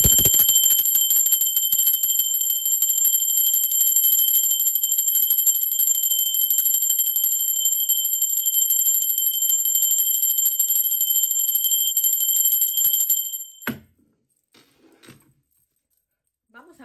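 A bright, sustained bell ring rings continuously and loudly for several seconds, then cuts off abruptly into near silence with a few faint clicks.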